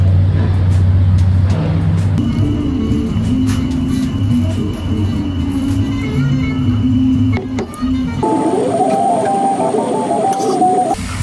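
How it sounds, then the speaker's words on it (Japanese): Inside a car driving home in the evening after a shopping trip, a steady low engine drone and road hum carry on throughout, with a brief shift in tone near the end and no talking. "今から車で帰るんですけど"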